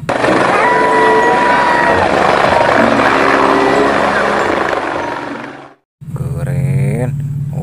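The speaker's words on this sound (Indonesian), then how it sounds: "lihat teman-teman, di sini ada helikopter" A toy helicopter whirring loudly and steadily up close, with a brief cutout before the buzzing resumes, and a voice talking over it in Indonesian.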